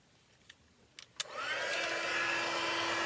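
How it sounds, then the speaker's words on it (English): After a few light clicks, an embossing heat gun switches on and blows hot air in a loud, steady close-up whoosh with a faint whine, continuing without any talking. "And grab my embossing gun again. My heat tool."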